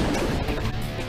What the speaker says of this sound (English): The load cell reveals it smashed the door with 800 pounds of force.